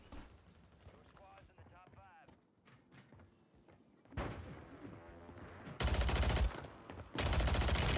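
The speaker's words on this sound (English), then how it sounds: "Oh, somebody's getting into a gunfight over there." A gunfight in the video game Warzone starts with a voice talking over quiet game sounds, then breaks into loud bursts of gunfire, with two dense volleys near the end.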